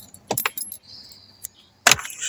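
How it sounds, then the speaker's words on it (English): Car keys jangle against each other as the ignition of a 2005 Jeep Grand Cherokee is turned off, in short close metallic bursts with a brief chime tone in between. "Let me just turn the car off."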